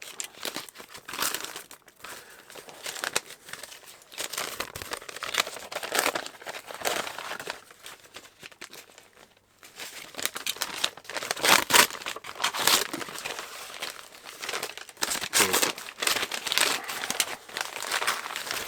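Package for Doctor Who collectibles being cut open and unwrapped, with sustained crinkling and tearing of wrapping in close, busy bursts, a brief lull midway, no talking.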